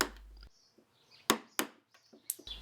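A chisel works wood on a workbench built from four pallets, giving a few sharp, separate knocks and chops spaced apart by quiet gaps.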